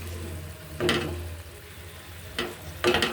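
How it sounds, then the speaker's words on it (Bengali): Stirring chopped papaya with boal fish in a pan, with three short scraping bursts over a low steady background hum. "পেঁপেটা দিয়ে দেওয়ার পর একটু নেড়ে চেড়ে নিচ্ছি"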